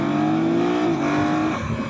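A 2024 BMW F 900 GS motorcycle engine revs hard from a riding point of view, a loud steady engine tone climbing in pitch and then dropping as the gears change, with no talk over it.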